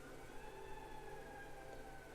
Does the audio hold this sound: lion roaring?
no